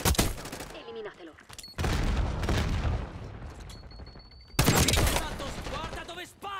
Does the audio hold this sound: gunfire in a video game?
yes